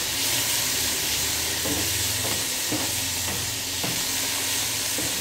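Mushrooms with Worcestershire sauce sizzle and fry in a pan, a loud continuous hiss broken by a few scraping stirs of a utensil, close and alone without talk.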